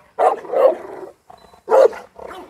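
A bull-type dog in Jambi, heard near the mic, gives two short bursts of loud barking, each a bark or two followed by a softer trailing yelp, with brief silence between.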